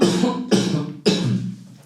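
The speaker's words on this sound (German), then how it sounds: "Da muss ich einmal kurz husten, sorry dafür." A man coughs three times in quick succession, each a sharp, close burst followed by a rasping tail, indoors at close range.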